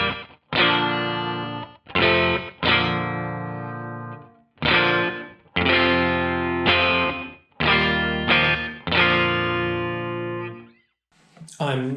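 Electric guitar played through a Boss RV500 stereo room reverb on one side and a Space Echo slap on the other, with an AC30 and a Hiwatt 100 amp, heard as loud distorted chords with pauses between them.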